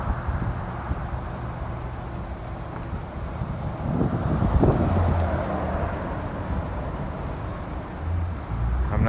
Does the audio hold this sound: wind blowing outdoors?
yes